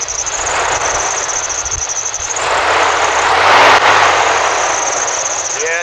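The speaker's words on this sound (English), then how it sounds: "You can tell it runs a lot better now. It's got a full clutch on the clutch fan." A 2000 Dodge Durango with a 5.9 V8 engine idling steadily, its non-thermal clutch fan fully engaged, giving a close, continuous roar and whir that swells slightly mid-clip, with a voice speaking over it.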